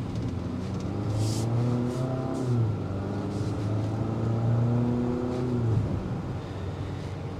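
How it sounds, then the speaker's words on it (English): A 2025 Infiniti QX60 with the VC turbocharged four-cylinder engine accelerates, its engine note climbing in pitch through rising gear pulls, then easing off near the end, heard from a moderate distance at steady loudness. "The VC turbocharge engine."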